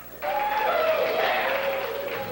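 A bar crowd at the Little Waldorf Saloon cheers a 1991 UNR Wolfpack football game, a broad, steady roar of voices that swells abruptly and holds throughout.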